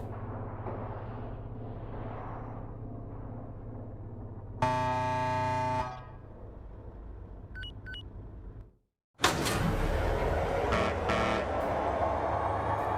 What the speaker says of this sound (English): Give him a good honk!